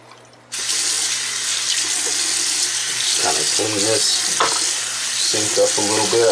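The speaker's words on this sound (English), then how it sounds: "I'm gonna go ahead and dump this water out, and I'm gonna refill it again." Hot tap water runs steadily into a container being refilled, a loud continuous splashing hiss close by with occasional clinks and a voice speaking over it.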